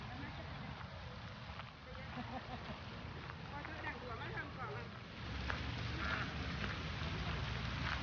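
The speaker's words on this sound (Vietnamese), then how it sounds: "Nay vịt, vịt này vịt trời nha cả nhà" Wild ducks quacking in an autumn campus garden setting, a steady chorus of calls over constant background noise and water-like wash, with a person talking throughout.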